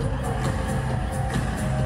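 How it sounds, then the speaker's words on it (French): Nineteen thousand fans fill the Centre Vidéotron arena as Billie Eilish steps onstage, their sustained, loud, roaring cheers and whoops forming a dense wash of crowd noise, with a few sharp bursts standing out. "Billie Eilish a soulevé la foule"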